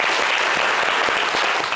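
A studio audience claps for a DJ, a dense, loud, continuous applause with no talking over it.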